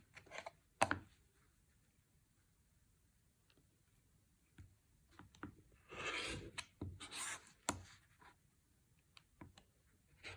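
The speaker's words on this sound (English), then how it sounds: "I'm going to go ahead and use my rotary cutter to cut." A rotary cutter slicing through quilt fabric during binding work gives a few quiet, scratchy rolling passes with soft taps and clicks between them, the longest rasping stroke coming near the end.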